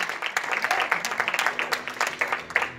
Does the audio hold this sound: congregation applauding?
yes